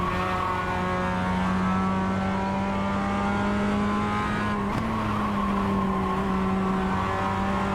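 Engine of a Mazda MX-5 race car in iRacing at the Nürburgring Combined, held in second gear under full throttle, a loud, close, sustained buzzing drone that dips briefly at a shift before climbing again, with no voices.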